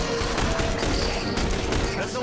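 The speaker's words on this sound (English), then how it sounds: "We just keep firing, guys." Rapid gunfire in The Bureau: XCOM Declassified, a dense continuous barrage of shots filling the whole moment, loud and close, with game sounds layered underneath.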